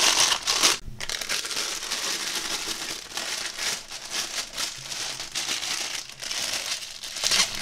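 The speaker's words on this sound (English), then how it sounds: "I'm gonna take a cup with a piping bag put into it." A plastic piping bag crinkles steadily as it is pushed down into a cup for resin work, a close, continuous rustling and crackling with brief pauses.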